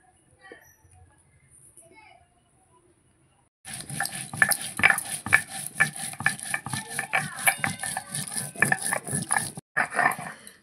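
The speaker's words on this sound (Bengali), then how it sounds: "প্রথমে জিরে বেটে নেব।" Cumin seeds are ground into paste on a grinding stone with steady rhythmic scraping and rubbing strokes. After a quiet start, the repeated gritty strokes come close and fairly loud, with a brief pause near the end.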